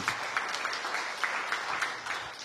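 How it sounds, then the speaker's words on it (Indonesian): A church congregation claps during a sermon, a steady continuous round of applause with rhythmic accents running throughout at moderate loudness. "Tepuk tangan yang meriah bagi Tuhan."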